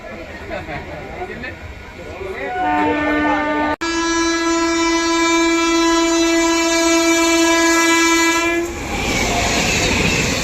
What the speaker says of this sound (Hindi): अब आ रही है 22/811 भुवनेश्वर तेजस राजधानी एक्सप्रेस ओवरटेक करने यहीं पल्लई पे।